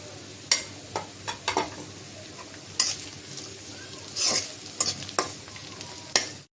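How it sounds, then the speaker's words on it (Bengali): Chopped onion frying with cardamom, cloves, cinnamon pieces and bay leaf, a continuous close sizzle punctuated by sharp scraping and clinking stirs of a spoon against the pan. "পেঁয়াজটা ভেজে নেবো এখানে এলাচ আছে লং কয়েক টুকরো দারচিনি আর তেজপাতা দিয়ে দিলাম"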